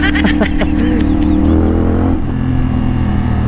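A CF Moto 450SR motorcycle with a loud Akrapovic exhaust runs close by with a deep, loud, continuous engine drone. The pitch wavers as it revs and then settles into a steady throb.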